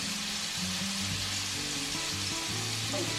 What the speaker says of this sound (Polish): łososia i krewetki teraz obsmażyć